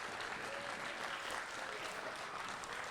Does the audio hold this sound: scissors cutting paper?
no